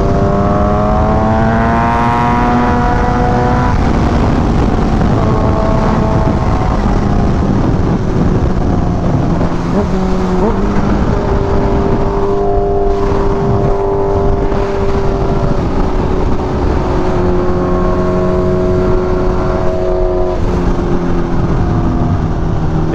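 A Kawasaki Ninja H2 motorcycle ridden through Hollywood city streets, its loud engine droning and rising and falling in pitch through gear changes for the whole stretch, close and steady under wind noise.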